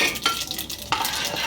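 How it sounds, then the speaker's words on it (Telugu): Lentils and spices tempering in hot oil crackle and sizzle up close, with stirring scrapes in a short steady burst. "మినపప్పు తీసుకొని పోపు పెట్టండి"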